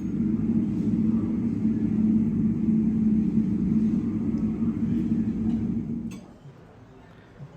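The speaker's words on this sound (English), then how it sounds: "I could sit and listen to these transatlantic heavies spool up for departure all night" Transatlantic heavy airliners spool up for departure at JFK, heard from a nearby lounge as a steady, distant low rumble with a faint whine that holds for several seconds, then drops away sharply to quiet.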